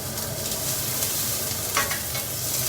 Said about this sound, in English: So you can see, you can hear the sizzling